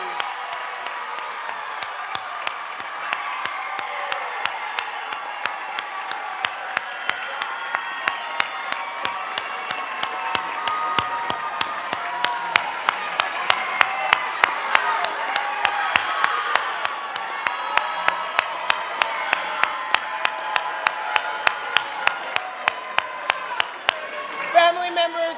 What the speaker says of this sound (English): find your family members, and give them a round of applause